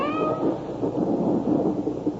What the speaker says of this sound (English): Did you hear that? Hear what? The cat.